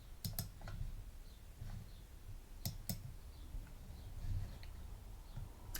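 Computer mouse clicking, a handful of crisp, quiet clicks in small pairs and singles spaced across a faint background hush, close and alone.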